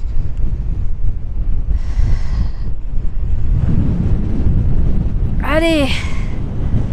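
Heavy wind buffets the microphone in low, continuous gusts in Sud Lípez, Bolivia; a person briefly calls out in French and a short high-pitched cry rings out near the end.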